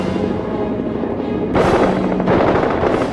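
A WWI fighter's forward machine gun fires through the spinning propeller, timed by an interrupter gear. The rapid, steady gunfire grows louder and denser after the first second and a half, with no voices.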